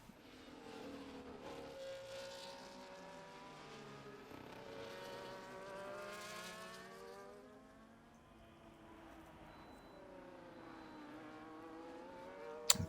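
Formula 1 race cars in a racing video game snake through the Azerbaijan circuit's narrow castle section, several engine whines rising and falling in pitch as the cars brake and accelerate in close succession.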